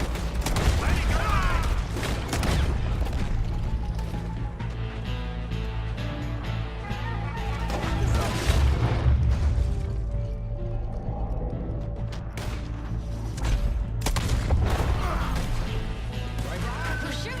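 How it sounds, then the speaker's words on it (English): Gunfire shootout in Red Dead Redemption 2, a dense, continuous run of sharp cracks and crashing impacts over a steady game score, loud and sustained with no pauses. "We're shooting our way out of here, boys!"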